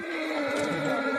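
A horse of Don breed cross gives a clear, fairly loud whinny with a wavering, tonal cry that lasts the whole moment.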